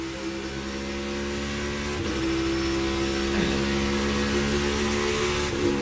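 A NASCAR Cup Series race car on track during practice for the 2022 championship race: a loud, steady engine drone that holds a near-constant pitch, rising slightly partway through under a light breath of throttle.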